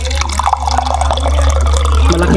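A glass of water poured into a hot cooking pot while making chicken adobo gives a short splashing, trickling pour over a steady low hum from the stove, close and fairly loud.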